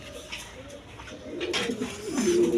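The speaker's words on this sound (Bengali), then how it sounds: "এক পেয়ার লাহোরি কবুতর আছে দেখেন একদম ভিক সাইজের দেখার মতো কবুতর" A pair of big Lahori pigeons coo up close, the throaty calls swelling louder toward the end, with little else around them.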